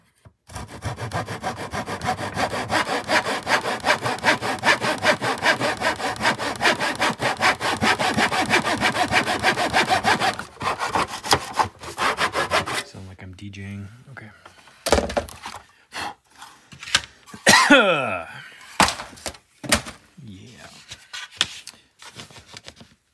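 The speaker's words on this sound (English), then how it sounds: "You could use a hacksaw blade in this miter box" A hacksaw blade in a miter box cuts through a small piece of wood for a miniature table, about ten seconds of rapid, even back-and-forth rasping up close, then sparse knocks and scrapes as the cut finishes, with a voice speaking.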